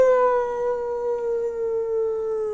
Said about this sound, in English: You hear them howling.